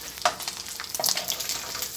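Bacon fries in a pan, crackling and sizzling up close with a few sharp pops and scraping stir sounds over a continuous hiss.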